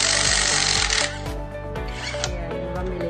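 DeWalt 600 Nm cordless impact wrench hammering: rapid, loud, close rattling blows at first, then a lower-pitched motor spin with a slower series of impacts, all without talk.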